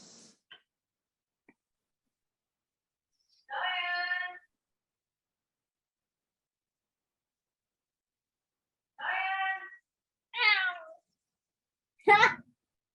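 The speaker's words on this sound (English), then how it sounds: "Another cat is answering," A few meows from a cat answering another, separated by long silences: two harmonic cries, then a rising call and a sharp final yowl.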